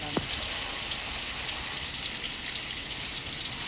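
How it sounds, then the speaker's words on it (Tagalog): Water poured into a cooking pot holding moringa leaves, a steady close splashing gush that runs evenly throughout with no talking. "Ilagay natin yung tubig."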